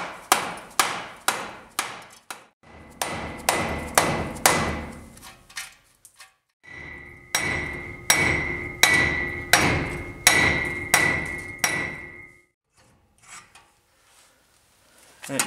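A hammer strikes a wheel hub again and again to shock it loose on a 2005 Ford F250 during a ball joint replacement, loud metallic blows in quick rhythmic bursts with ringing, close and alone, with a pause mid-way.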